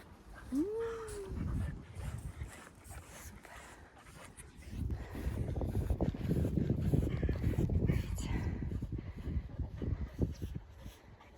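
A dog pants rapidly outdoors, a breathy, rhythmic rush that is steady and fairly close. A short high whine comes early, before the panting builds.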